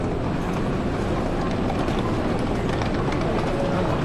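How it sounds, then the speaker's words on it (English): A train rumbles past close by, a dense, steady roar of wheels and rails throughout. "That's not my train."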